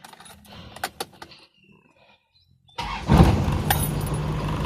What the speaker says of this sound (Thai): มา สตาร์ทบ้างเสียงเครื่อง